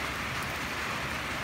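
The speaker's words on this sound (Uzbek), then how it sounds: "O'zbekistonda bugun ayni paytda 2021-yil 10-may kuni yomg'ir yog'moqda." Steady rain falls in Bulung'ur district, Samarkand region, Uzbekistan, a dense even hiss with no distinct drops, continuous and fairly close for a short stretch.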